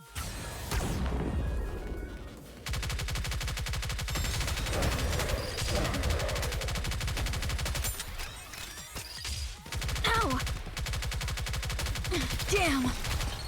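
Seven Dwarves weapon unleashing sustained rapid gunfire in the Nikke: Goddess of Victory game, loud dense bursts with brief pauses and sharp impact crashes, with a short voice line partway through.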